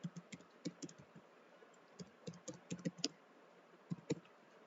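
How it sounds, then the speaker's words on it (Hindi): An ID is typed on a computer keyboard: an irregular run of light, close key clicks, some in quick bursts and others spaced apart, with no talk. "यहां से जो बीसी का आईडी है उसको टाइप करते हैं"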